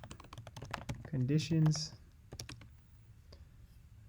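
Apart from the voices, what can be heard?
typing on a computer keyboard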